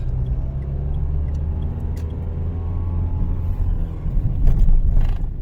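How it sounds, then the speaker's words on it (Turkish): A car accelerating during a driving test on a road, with a steady low engine rumble that grows slightly louder and rougher toward the end, heard from inside the vehicle. "Bas gaza şimdi hızlanıp artık ikiye alabiliriz."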